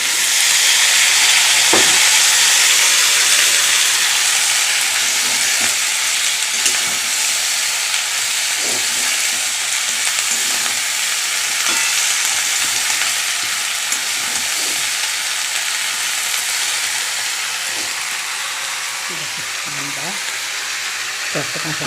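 Vegetables frying and being stirred in a pan, a steady broadband sizzle with scattered scrapes and clicks of the utensil throughout, close and fairly loud, with no talking.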